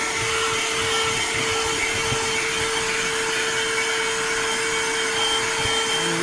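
A cheap portable vacuum cleaner running on carpet, a loud, steady motor whine with a constant hum and no pauses, close by with no talking.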